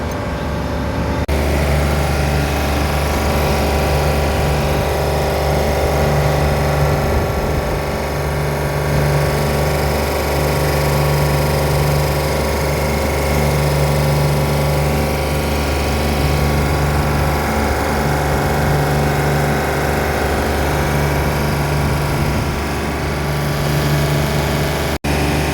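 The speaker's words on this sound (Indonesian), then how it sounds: "Ini mesin sudah saya hidupkan" A chiller's compressor machine runs just after oil has been added to it, giving a loud, steady mechanical drone with a constant hum and no break from start to finish.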